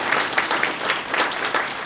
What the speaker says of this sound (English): So I'd like to really give them a special round of applause because this is really special.